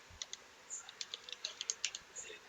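Light, quick keystrokes on a computer keyboard tap in an uneven run of soft clicks, faint and close, with no talk.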